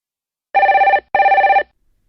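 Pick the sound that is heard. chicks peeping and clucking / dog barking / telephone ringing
telephone ringing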